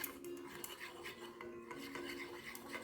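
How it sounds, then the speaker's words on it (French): Face scrub mixture stirred in a bowl, with a steady scraping and clinking of a utensil against the sides, close and fairly quiet with a few sharper taps. "Et on mélange bien, on mélange bien, on mélange bien,"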